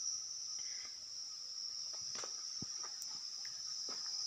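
Crickets chirp in breeding boxes at a cricket farm in Purworejo, a steady high-pitched trill filling the background with a few faint knocks and rustles nearby.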